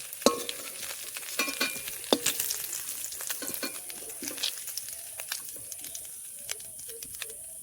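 Lightly browned prawns are lifted from sizzling hot oil, a steady frying crackle broken by scattered clicks and taps of a utensil against the pan, close and moderately loud.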